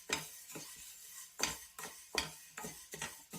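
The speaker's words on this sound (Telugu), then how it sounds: "1/4 కప్ పెసరపప్పు తీసుకొని ఇప్పుడు వేయించుకోవాలి." Moong dal dry-roasting in a pan on a low flame, stirred in regular strokes that make repeated soft scraping rattles, quiet and close with no talk.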